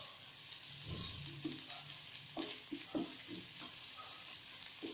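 Potatoes and curry leaves frying in a pan with steady broadband sizzle, broken by a series of scraping, clinking stirs of a spatula against the pan, close and alone with no talk.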